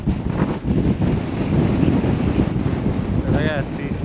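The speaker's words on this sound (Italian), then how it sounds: "Comunque provo a portarvi nella parte esposta, quindi dove c'è più vento." Strong wind roars across an exposed spot during a motorcycle trip, with loud, continuous rumbling gusts buffeting the microphone and a brief voice rising near the end.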